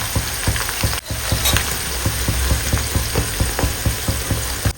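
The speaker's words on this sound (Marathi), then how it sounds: "मग आपल्याला हाय फ्लेमवर कांदा तळायचा आहे, म्हणजे कांदा आपल्याला चांगला गोल्डन ब्राऊन कलर येतो।" Onions for a dry onion chutney are frying in a pan over high flame, giving a loud, close sizzle with regular scraping taps of a spatula stirring in a steady rhythm.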